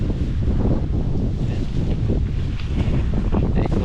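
Wind gusting in through an opened window or door of a beach cabin on a cliff at Cabangaoan Beach in Burgos, Pangasinan, a steady loud rushing roar that fills the whole moment with no clear break.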